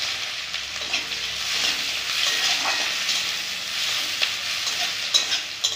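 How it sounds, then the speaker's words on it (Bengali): Chopped onions fry in oil in a wok with black cumin seeds and green chillies, giving a loud, steady close sizzle with occasional scraping stir sounds. "পেঁয়াজ কুচি দিয়ে দিব।"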